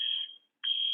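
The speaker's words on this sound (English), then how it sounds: "there's a fire alarm going off in my hallway" Electronic fire alarm sounding in a hallway: a steady, loud high-pitched tone that drops out briefly for a fraction of a second and then resumes just as strongly, with no voices over it.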